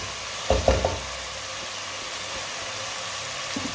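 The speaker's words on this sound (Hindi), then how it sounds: "टमाटर को भी मैंने 2-3 मिनट के लिए पका लिया है।" Tomatoes cook in a pan for aloo gobi, a low, steady frying hiss with a brief burst of stirring clatter near the start and another faint knock at the end.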